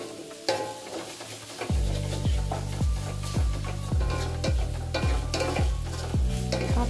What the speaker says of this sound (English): Add the noodles and stir.